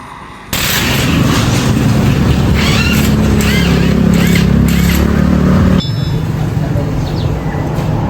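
A vehicle with a cracked wheel bearing runs loud and close, giving a harsh continuous grinding roar that drops in level near the end, while voices talk over it.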